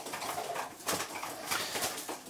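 Pigeons cooing softly in a loft housing young birds and breeding hens, several low, breathy coos at a moderate distance over faint rustling.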